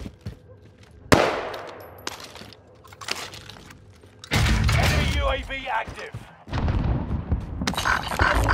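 Submachine gun fire in Call of Duty Warzone: scattered sharp shots early on, then loud sustained bursts of automatic fire later, with a voice speaking in between.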